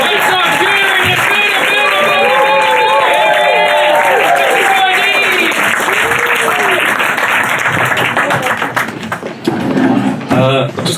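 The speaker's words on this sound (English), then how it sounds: "let's start clapping!" An audience at a comedy night in a Camden pub claps and cheers loudly and continuously for the next act, with scattered whoops rising over the din before it thins out toward the end.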